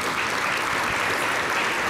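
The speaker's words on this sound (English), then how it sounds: "How about a round of applause for those commissioners?" A keynote general session audience gives dense, steady applause for commissioners, a close, even wash of many hands clapping with no voices over it.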